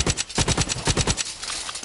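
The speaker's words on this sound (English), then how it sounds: "And then this one is a burst fire pistol." Rapid gunfire from a burst-fire pistol in the shooter game Blacklight: Retribution comes as quick close bursts of sharp shots, loud and dense, tapering off toward the end.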